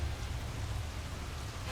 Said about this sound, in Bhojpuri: अचानक बारिश कहाँ से आ गई?